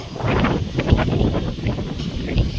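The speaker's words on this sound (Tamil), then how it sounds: "செம்மையாக காற்றடிக்குது." Strong wind roars continuously across the microphone, a dense, loud rumble with gusty surges and no pauses.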